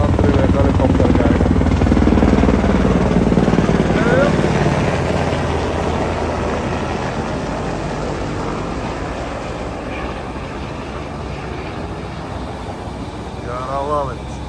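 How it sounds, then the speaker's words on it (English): Black Hawk military helicopter passing overhead near a yacht at sea off Mexico, a loud steady rotor thump and engine drone that gradually fades, with people talking over it. "Osprey is a lot more noisier than that. A black hawk, I believe."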